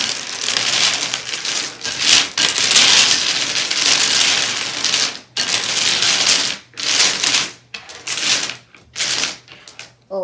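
Mahjong tiles being arranged on a table in a clattering rush, dense clicking and sliding, loud and close, with brief pauses between bursts.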